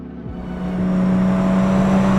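A 47-year-old Ford Capri engine revs up from a low idle, its steady tone climbing and holding close and loud, with no voices over it.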